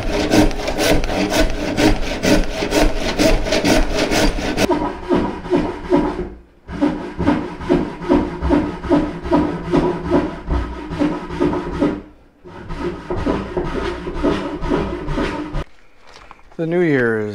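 A hand saw cuts through a walnut board clamped in a vise, with rapid rhythmic back-and-forth rasping strokes in three long runs separated by brief pauses, close and loud.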